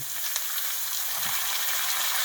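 Potatoes hit hot oil in a pan and fry with a loud, dense, continuous sizzle that holds steady throughout, close and bright with no voices.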